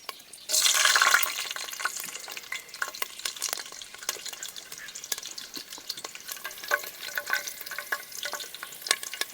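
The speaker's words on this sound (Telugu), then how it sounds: "పచ్చిమిర్చి తరిగి పెట్టుకున్న పచ్చిమిర్చి వేస్తున్నా." Chopped green chillies hit hot oil in a pan aboard a boat, opening with a loud burst of sizzling that settles into steady frying crackle and occasional stirring clicks, with no talk.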